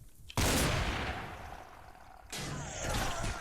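Shotgun fire in the game Cataclysm: Dark Days Ahead, two sharp, loud blasts, the second about two seconds after the first, each followed by a lingering rumbling decay.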